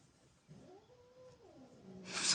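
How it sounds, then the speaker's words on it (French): A cat meows once, a rising and falling drawn-out cry that is faint and slightly distant in a quiet room, followed by a brief noisy rustle. "Vous entendez le chat? Ça, c'est le chat."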